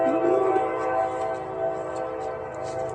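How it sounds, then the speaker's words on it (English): Train passing at night, a steady rumbling roar with a sustained horn-like tone near the start, heard from a distance outdoors during a walk with dogs. "Oh, I hear a choo-choo train."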